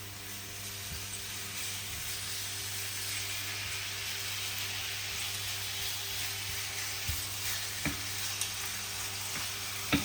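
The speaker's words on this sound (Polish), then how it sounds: "Na tą drugą patelnię najpierw wrzucamy sobie cebulkę." Chopped onion frying in a deep pan, a steady close sizzle with a few faint clicks from stirring.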